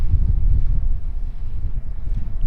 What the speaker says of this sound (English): It's kind of breezy tonight, so I'm sure it's really windy up there